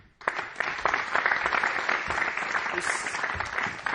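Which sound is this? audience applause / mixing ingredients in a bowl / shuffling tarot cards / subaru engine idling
audience applause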